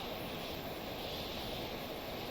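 A video game helicopter spinning out of control gives off a steady, dense rotor and engine roar that holds without a break throughout.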